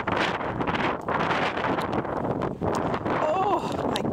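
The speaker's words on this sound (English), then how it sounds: "What a wind." Strong gusting wind buffets the microphone outdoors in frigid Arctic polar-vortex cold, a loud continuous roar with surging gusts and a brief lull near the middle.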